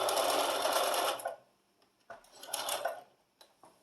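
A sewing machine runs in a steady burst for about a second as it joins two ends of quilt binding, then stops, followed by a second shorter stitching run and a few light clicks.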